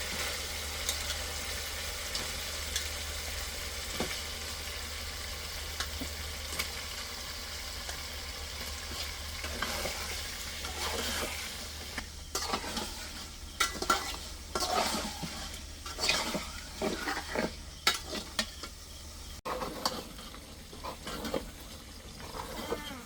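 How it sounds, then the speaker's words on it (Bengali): Meat stirred and fried in a spice masala for bhuna khichuri, a steady sizzle with repeated scraping and clinking of a spoon against the pot, growing busier and louder in the second half, with no talk. "আমার মশলা কষানো হয়ে গেছে, এখন মাংসটা দিয়ে দিলাম।"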